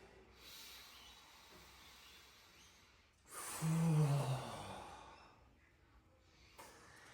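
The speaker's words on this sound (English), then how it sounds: "Good breathing." Deep, slow breaths from a man receiving an intense chest massage: a long hissing exhale swells in the middle over a soft, steady background, heard close without speech.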